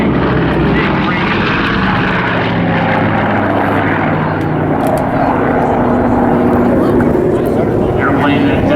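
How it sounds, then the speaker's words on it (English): Grumman Bearcat racing warbirds roar past low at an airshow, a loud, sustained piston-engine drone with propeller buzz that swells and holds across the whole stretch, with a commentator's voice running over it. "The Bearcats coming through right now."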